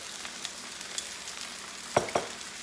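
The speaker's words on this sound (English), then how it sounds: "I'm also going to add here some of the onions as well. Let it all cook together." Beef and onions fry in a small skillet, a steady close sizzle with light crackles, then two sharper scraping stirs near the end.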